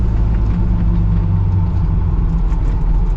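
Kaiser Jeep M715 military truck driving on a paved road, a low, steady engine rumble with drivetrain drone and faint road noise, close and continuous with no talking.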